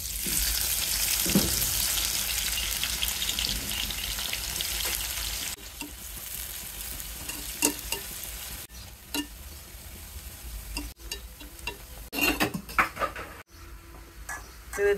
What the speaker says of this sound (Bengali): খুব অল্প পরিমাণে পেঁয়াজ বেরেস্তা করে নেব।